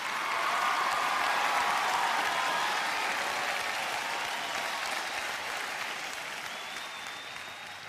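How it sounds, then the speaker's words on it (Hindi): A large concert audience applauds and cheers for a singer, a dense, steady roar of clapping that fills the whole stretch and fades slightly toward the end. "Ladies and gentlemen, जोरदार तालियां for the biggest singer we have nowadays,"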